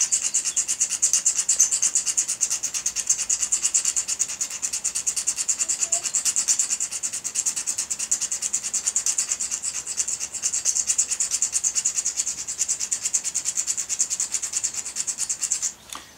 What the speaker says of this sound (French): quand on gratte, on ne produit pas en fait d'étincelles